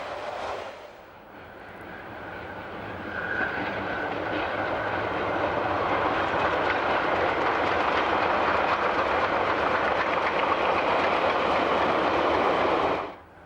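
Rhaetian Railway steam locomotive No. 108, a superheated two-cylinder engine of around 800 horsepower, hauls a train on the Engadine line in Switzerland, a loud, steady rumble and roar of the engine and rolling wagons passing close for over ten seconds before cutting off.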